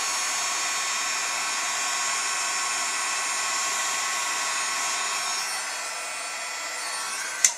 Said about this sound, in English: I'll bring my heat tool in again, my heat gun, and just emboss the I'm So Sorry.